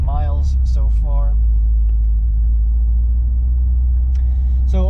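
Steady low road and engine rumble from a Subaru STI cruising on a highway during a road trip, continuous throughout with a person talking over it at the start and end.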